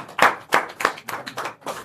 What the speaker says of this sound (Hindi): उस भाई का खड़े होकर जरा जोरदार ताली के साथ स्वागत किया जाए